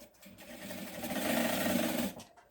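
A sewing machine runs in one continuous burst of about two seconds, stitching an X onto a backpack strap, close up and moderately loud.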